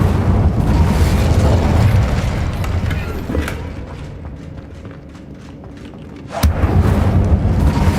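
Casting the Incendio fire spell in Hogwarts Legacy gives a loud rumbling whoosh, which thins to a quieter crackle before a sharp burst erupts and a heavy roar returns.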